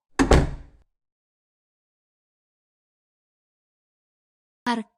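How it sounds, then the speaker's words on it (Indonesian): A door is shut as an audio drama sound effect: one solid thump with a short rattling decay right at the start, then silence, and a brief second knock near the end. "istrinya menutup pintu"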